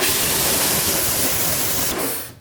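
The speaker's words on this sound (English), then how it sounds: "I'll just give it a spray and yeah, you'll see." A steady, close hiss of detailing spray from a nozzle onto a car wheel lasts about two seconds, then cuts off abruptly.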